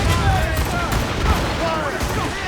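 Naval cannon and gunfire crackle during a ship battle in Assassin's Creed Rogue, a dense, continuous barrage of pops and booms with shouting crew voices mixed in.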